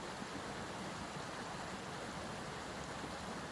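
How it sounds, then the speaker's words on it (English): A stream flows steadily beside a campsite at a nature resort, a soft, constant wash of running water heard at moderate distance, alone and quiet. "Just look at the stream behind me here. How gorgeous is that? You can hear the water going."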